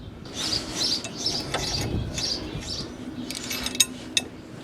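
Metal ratcheting and mechanical clicking as a half-inch fiber lock nut is worked off the deck lift arm of a Toro Wheel Horse mower, ending with a few sharp, louder clicks.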